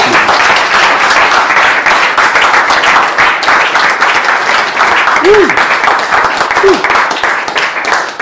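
Congregation applauding during a church sermon: dense, steady clapping that fills the whole stretch at full volume, with a couple of brief voice calls rising above it.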